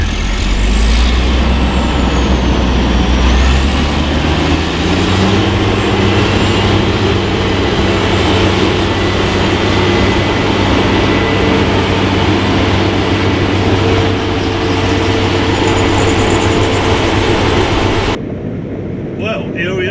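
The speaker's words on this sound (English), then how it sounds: "Driving a combine, old combine harvester." An old CLAAS Lexion 670 Terra Trac combine harvester gives a loud, close, continuous engine rumble and mechanical drone from the cab. The engine note climbs early on, then holds steady, and drops off abruptly near the end.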